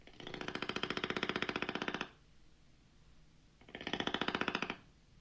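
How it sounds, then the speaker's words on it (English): A toucan purrs in two bursts of rapid, buzzing rattling pulses, each lasting a couple of seconds, separated by a short quiet gap. The sound is a close, mechanical-sounding purr. "I just found out that toucans know how to purr."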